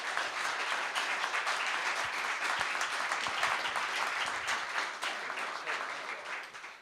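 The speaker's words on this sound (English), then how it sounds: "So I think these guys deserve a round of applause." A crowd breaks into full, dense applause at a university homecoming event honoring grand marshals, sustained and loud for several seconds before it begins to taper off at the end.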